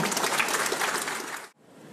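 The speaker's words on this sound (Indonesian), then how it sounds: "Kita beri tepuk tangan." A crowd claps steadily for a moment at a World Food Day commemoration event in South Kalimantan, before the applause cuts off abruptly into quiet.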